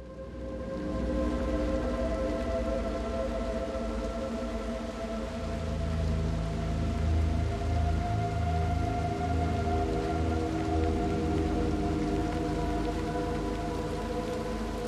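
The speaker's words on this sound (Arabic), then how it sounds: "حالات المطر والله." Steady rain falls in the video game Little Nightmares II, a continuous, even wash of noise layered with low droning ambience and tonal hum, holding at a constant level throughout with no voices.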